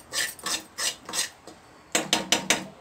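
Parle-G biscuit modak mixture stirred and roasted in a pan, giving repeated scraping, rasping strokes in a steady rhythm, then a quicker run of sharper scrapes near the end, close and moderately loud with no talking.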